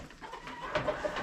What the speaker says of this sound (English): So we got too many roosters.